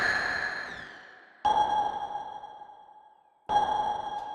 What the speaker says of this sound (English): broken sonar